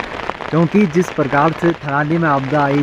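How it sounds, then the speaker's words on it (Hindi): Heavy night rain in the Badrinath valley during a disaster-level downpour hisses steadily as a broadband background under a man's continuous speech in Hindi. "लेकिन बारिश अभी भी थमने का नाम नहीं ले रही है"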